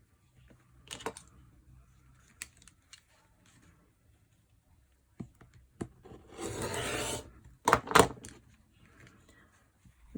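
Rotary cutter trimming a quarter inch of excess fabric off a foundation-pieced Christmas quilt block, heard as a few short scraping cuts against a ruler and mat, one longer rasping pass in the middle, close and fairly quiet.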